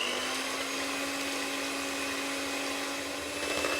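An electric mixer whirs steadily through egg white in a clean bowl for a meringue, a constant high buzzing motor hum at an even pitch with no voices.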